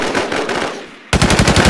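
Rapid automatic gunfire in the video game Infestation, loud and close bursts of fast repeating shots, broken by a brief drop-off before the firing resumes even harder.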